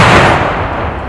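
A single loud, close blast from an artillery barrage, a broad explosive boom that decays over about a second with no other sounds.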